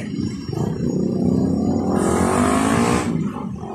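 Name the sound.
heavy road traffic, cars on a congested road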